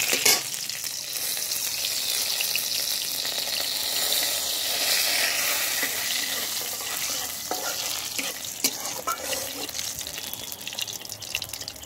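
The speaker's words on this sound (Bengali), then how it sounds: "তো এখন আমি এই যে দারচিনি, এলাচ, শুকনো লঙ্কা, জিরে ফোড়নটা দিয়ে দিচ্ছি।" Whole cinnamon, cardamom, dried chilli and cumin sizzle in hot oil, a bright crackling hiss that stays close and steady throughout, with small pops and spatters and a few utensil taps.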